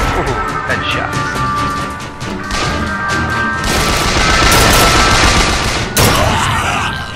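Gunfire in Bioshock, a string of loud shots and bursts across the scene with crashing impacts and game effects, while a player talks throughout.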